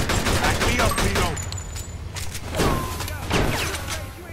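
Rapid bursts of gunfire from a shootout in the Mafia 2 video game, several loud volleys with brief pauses between them. Game voices are heard under the shots.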